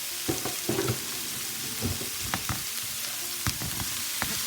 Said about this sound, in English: While the onions are cooking